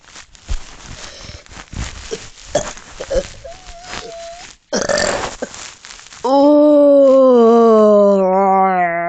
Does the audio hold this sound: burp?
yes